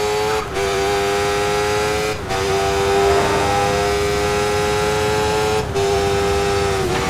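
GT race car in the TOCA 3 World Tour video game, a loud steady engine drone with strong harmonic whine, briefly dipping a few times as gears shift, heard close and alone.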